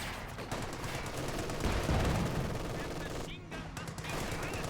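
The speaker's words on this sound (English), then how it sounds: "MG fight here. Looks like that machine gun from the British player is just barely going to get out of there." Machine gun fire in the strategy game Company of Heroes 2, a dense, sustained rattle of automatic bursts with more distant gunfire mixed in, loud and continuous, with a voice talking over it.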